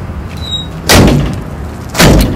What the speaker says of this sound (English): So you've got your rear door.